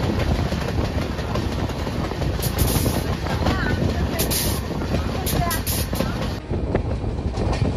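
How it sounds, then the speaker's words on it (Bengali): Passenger train pulling out of Tamluk Junction station, a steady rumbling roll of carriages with rail clatter and brief high squeals, a voice speaking over it. "তো ছেড়ে দিল আমাদের ট্রেনটি তমলুক জংশন রেলওয়ে স্টেশন থেকে।"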